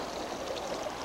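Cold creek water at about 36 degrees pours and washes gravel through a crab into a gold pan beneath, a continuous close rushing and trickling flow.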